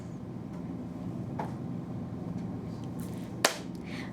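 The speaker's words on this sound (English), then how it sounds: "Clapping once is correct." A single sharp hand clap rings out near the end, loud and crisp, over a faint steady background hum.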